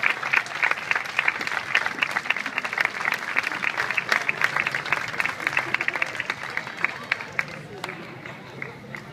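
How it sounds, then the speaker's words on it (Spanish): An audience at a beauty pageant runway event applauds steadily, sustained clapping with some crowd voices, continuing at a fairly even level before easing toward the end. "Fuerte los aplausos, señores."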